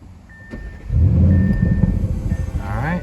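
A 2021 Audi RS6 Avant's twin-turbo V8 cranks and fires up, settling into a loud, deep, throbbing idle close by after a brief quiet start.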